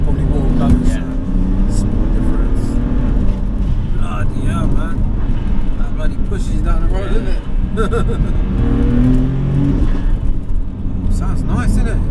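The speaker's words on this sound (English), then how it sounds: "the induction noise on it, you can hear" Induction noise from a tuned 560 bhp BMW M4 convertible roars steadily from the engine bay under wind and road rumble, with people talking over it throughout.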